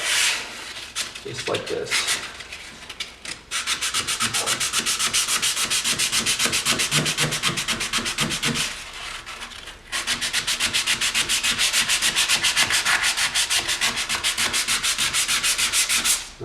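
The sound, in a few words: sanding oak stair treads across the grain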